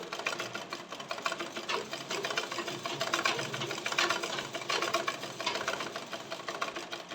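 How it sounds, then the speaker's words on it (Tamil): A sewing machine stitching along the sides of a handkerchief, a rapid steady mechanical chatter running continuously at moderate distance, with no voices. "இதே மாதிரி நான் நாலு சைடு உங்களுக்கு தச்சுட்டு கர்ச்சீஃபை காட்டுறேன்"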